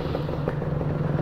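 A two-stroke motorcycle engine, running on racing two-stroke oil with its exhaust smoking, idles at a steady, even drone close by. No one speaks over it.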